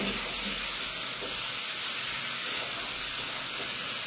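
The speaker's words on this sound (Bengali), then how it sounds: "এই যে হয়ে গেছে আমার ছোলা, তেলে দিব ভাজবো," Chickpeas frying in hot oil give a steady, even hiss and sizzle that runs close and unbroken throughout, with no talking.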